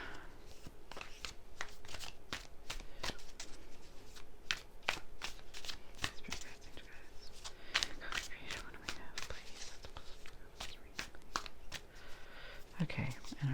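Tarot cards are shuffled continuously in quick, repeated riffles and slides, close and fairly quiet, with faint whispery sounds underneath.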